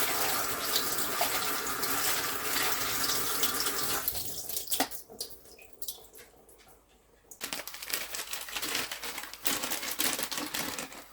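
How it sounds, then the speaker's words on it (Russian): Husks rinsed under a running kitchen tap, a steady loud rush of water with crinkling handling that briefly drops out, then resumes with splashing and rustling. "Вот так вот я ополаскиваю шелуху мою."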